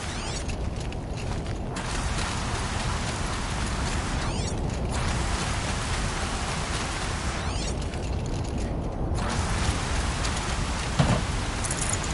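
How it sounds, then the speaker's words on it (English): Steady rain falls in the video game Horizon Zero Dawn, a constant broadband hiss that runs unbroken through the whole stretch, with a faint mechanical creak near the end. "Here comes the rain."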